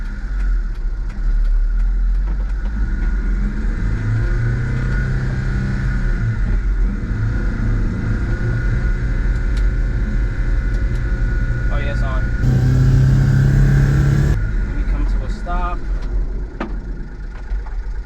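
A turbo Mitsubishi Townbox kei van idles and creeps forward in four-wheel drive, a steady mid-pitched engine hum with a brief rise in revs near the end, while someone talks over it inside the cab.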